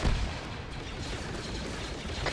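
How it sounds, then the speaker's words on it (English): A grenade blast in the Star Wars mod of Arma 3, a loud burst at the very start that gives way to a dense, sustained rumble of gunfire and booms filling the whole stretch. "Grenade, get down."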